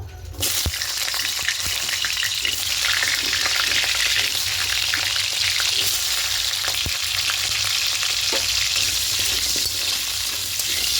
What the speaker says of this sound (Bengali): তেলটা গরম হলে আলুগুলোকে ভেজে দেবো এবার আলুগুলো দিয়ে দেবো